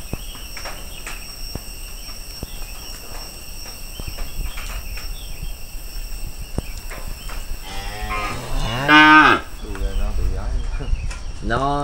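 Cattle moo during a night-time delivery before dawn. A loud, drawn-out moo rises late, after scattered knocks and footsteps over a constant chirp of insects, with faint voices nearby.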